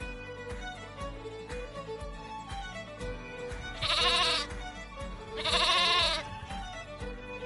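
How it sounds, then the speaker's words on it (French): A flock of sheep on a road in Brittany gives two loud, drawn-out bleating bursts that rise above a steady, tonal background of music. "Et là, sur notre chemin, nous croisons tout un troupeau de moutons."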